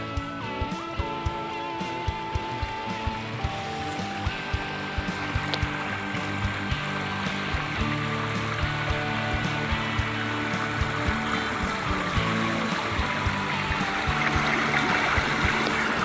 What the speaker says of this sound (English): I see a beautiful babbling brook